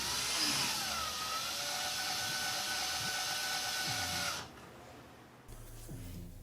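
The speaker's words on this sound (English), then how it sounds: "As you can see, I'm drilling very slow" A power drill whirs steadily at close range, drilling slowly into a car's front end splitter, its motor tone wavering, then cuts off abruptly near the end, leaving quieter background noise.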